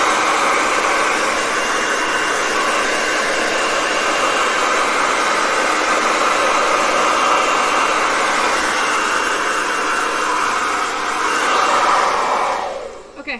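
An InfinitiPro hair dryer runs steadily on its high setting, a loud, even airy whir that holds throughout with no talking and cuts off sharply at the very end.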